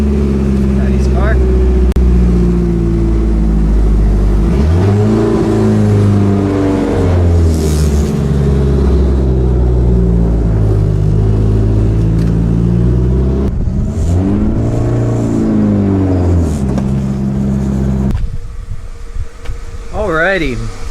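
A car's engine revs and drones loudly and steadily with rising and falling pitch sweeps, close by, running throughout before settling near the end.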